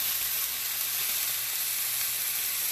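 Birria meat browns on a hot grill with a loud, continuous, close sizzle and no breaks, dense and bright from start to finish.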